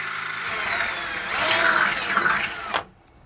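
A power drill bores a pilot hole for mounting a sliding truck bed tray, a close whirring whine that rises under load for about two and a half seconds, then cuts off abruptly into near silence.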